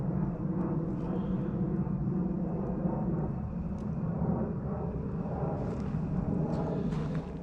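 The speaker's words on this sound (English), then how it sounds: "That plane's probably loud." An airplane passes overhead with a steady, broad, droning rumble that holds constant at moderate loudness throughout, with no voices.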